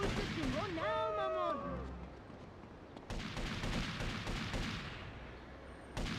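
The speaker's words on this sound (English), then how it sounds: "You're just shooting random people." Gunfire rings out in GTA: Vice City Stories, a few sharp cracking shots scattered under ongoing talk and game noise, moderately close and fairly faint overall.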